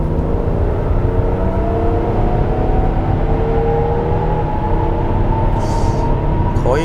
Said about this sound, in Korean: 거의 4800 정도 RPM까지 올라가면 자동으로 변속이 되네요.